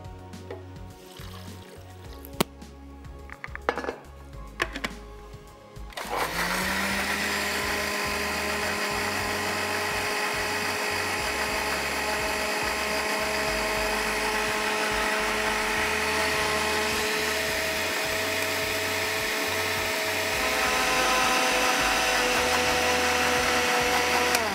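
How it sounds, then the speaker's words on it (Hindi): A blender whirring steadily as it blends tamarind pulp, starting abruptly after a few seconds of clatter and running loud and continuous for the rest of the time, its pitch rising slightly near the end. "ब्लेंड कर सकते हैं।"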